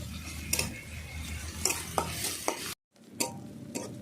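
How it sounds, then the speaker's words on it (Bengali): Onions fry in a pan, with a soft constant sizzle broken by repeated sharp scrapes and clinks of a spoon stirring against the metal, and a brief gap of silence partway through. "পেঁয়াজটাকে ভালো করে আমি লাল করে নিচ্ছি"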